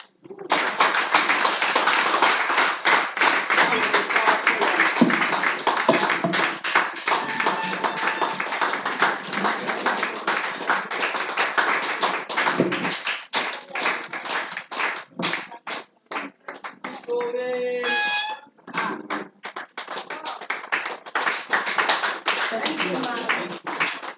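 Audience applause at a Nigerian women's agricultural progress event, sustained dense clapping throughout, loud and close with a few voices and brief cheers mixed in.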